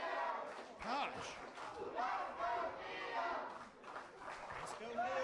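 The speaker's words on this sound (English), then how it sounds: "Let's go, Neil, as a chant." Wrestling crowd chanting a rhythmic two-part cheer for a wrestler named Neil, repeated several times in a loud indoor arena with voices rising and falling together.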